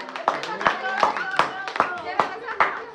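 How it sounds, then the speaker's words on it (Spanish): Family members at a surprise party clap their hands in a steady rhythm of about eight sharp claps, close and fairly loud, with voices talking and calling out over the clapping. "¡Un aplauso!"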